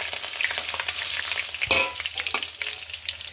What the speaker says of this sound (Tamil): வெந்தயமும் தாளிப்பு உடம்பு பொரிஞ்சிச்சு